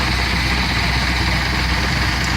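An antique engine runs at a threshing show demonstration in Adams, Tennessee, making a steady, close, heavy idling rumble with a continuous low throb and no break.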